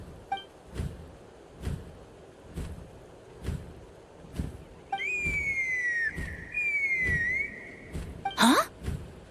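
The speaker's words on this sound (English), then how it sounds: "That sounded like a whistle." A high, clear whistle in the Flower Feather Clan video game sounds twice in sliding tones over a steady background of regular soft thumps, followed by a sharp swoosh.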